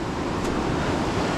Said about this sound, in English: A lot of water coming down the river.